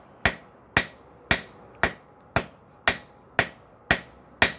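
Hammer blows on a hot ball pein hammer head held against an anvil edge, nine evenly spaced sharp metallic strikes ringing out in a steady rhythm, close and loud with no talking.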